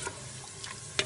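Mutton for a rogan josh is stirred and fried in a pot, with a steady sizzle broken by a few scraping clicks of the spoon against the metal, close and with no talking.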